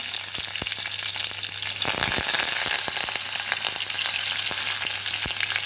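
Mustard seeds, cumin, green chili and curry leaves sizzle steadily in hot oil, a dense continuous crackle broken by sharp pops and spits throughout, close and fairly loud with no voices.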